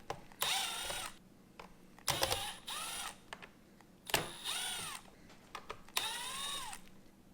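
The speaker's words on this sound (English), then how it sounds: "I've got my Milwaukee gun here with a T20 Torx bit" A Milwaukee cordless drill with a T20 Torx bit backs out screws on an Acura TLX Type-S steering wheel in four separate bursts, each a loud, close whine that rises and falls with the trigger, separated by quiet gaps.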